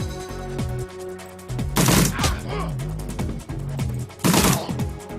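Gunfire in the Shadowrun Returns video game: two loud, short bursts of shots a couple of seconds apart over background game music.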